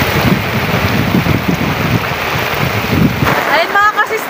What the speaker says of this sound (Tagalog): malakas na po yung ulan